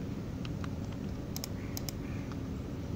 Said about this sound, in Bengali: সিলেক্ট করে F2 প্রেস করছি